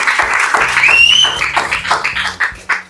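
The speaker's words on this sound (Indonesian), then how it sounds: "Boleh tepuk tangan buat kedua tim." Audience applause for two comedians' teams at a stand-up quiz show, loud dense clapping with cheering voices and a whistle, thinning into separate claps near the end.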